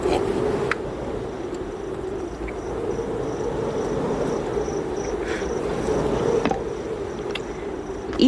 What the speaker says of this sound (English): Even the eerie chirping of the crickets